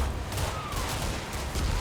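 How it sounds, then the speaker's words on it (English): A 50 caliber machine gun firing in a World War II battle at Grosshau, a steady stream of heavy rapid shots blended with dense battlefield noise, loud and continuous throughout. "It isn't every day that you see the battalion operations team manning a 50 caliber machine gun"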